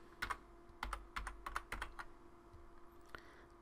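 Fingers tap out a command on a computer keyboard, a quick run of crisp, close key clicks in small bursts followed by a few slower isolated presses, quiet and alone without talk.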